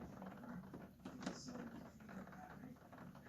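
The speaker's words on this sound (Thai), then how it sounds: "ฟังเสียงฝนไปก่อนนะคะ" Soft, steady patter of rain outside on a cold autumn morning, heard from indoors, faint and continuous, with a few light taps and no voices.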